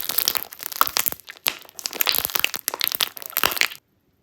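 Dense crackling and popping from squished crunchy slime, a close, busy stream of sharp crunches that stops abruptly near the end.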